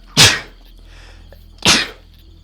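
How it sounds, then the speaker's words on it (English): Two loud, close sneezes from a person in a quiet room, about a second and a half apart, each a sharp burst that fades quickly, with no talk between them. "I better sneeze too, hold"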